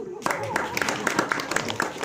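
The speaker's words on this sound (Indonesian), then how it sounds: "Tepuk tangan dulu." Audience members at a public gathering clap in a loose, rhythmic run of distinct claps, moderately near, while people talk over the clapping.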